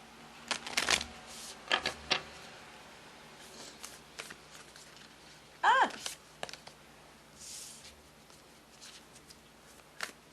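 Moonology oracle cards being shuffled during a psychic reading, heard as a few brief riffling bursts and soft card flicks spaced out over quiet room tone.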